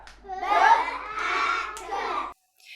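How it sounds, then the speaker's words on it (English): Children in a classroom clap out the syllables of a word together, a few short rhythmic bursts of clapping mixed with young voices, ending abruptly in silence. "Clap it out, go."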